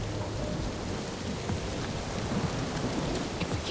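Steady, loud rain hisses throughout a scene in the Marvel's Guardians of the Galaxy video game, with a low rumble of thunder underneath and no voices.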